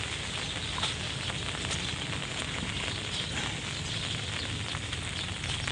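Steady heavy rain hisses in a dense, unbroken wash, with faint pattering detail throughout and no voices.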